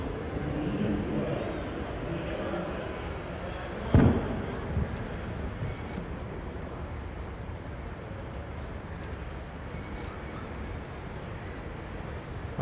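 A single sharp gunshot fired toward Makeevka in a wartime sniper position cracks out once, standing clearly above a steady low background rumble.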